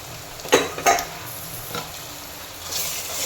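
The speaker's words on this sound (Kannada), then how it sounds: "ಟೊಮೆಟೊ ಫುಲ್ಲು ಸ್ಮ್ಯಾಶ್ ಆಗಬೇಕು, ಆ ಥರ ಫ್ರೈ ಮಾಡ್ಕೋಬೇಕು" Tomatoes fry with ginger garlic paste in a pan, a low sizzle broken by two sharp scraping stirs near the start, a lighter stir later, and a rising hiss toward the end.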